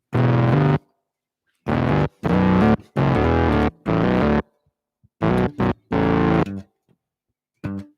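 Bass notes played on a MIDI bass through effects and distortion, loud sustained notes in separate bursts with short silent gaps between them.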